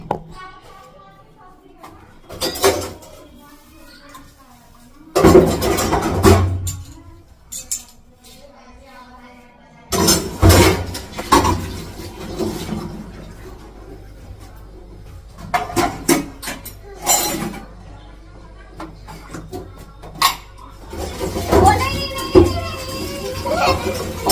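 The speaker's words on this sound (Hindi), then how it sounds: "तो इन बर्तनों को धो ही दूँ" Dishes, pots and utensils being hand-washed at home, heard as bursts of clinking and clattering metal and rushes of water between quieter pauses. Someone talks at times over the sounds.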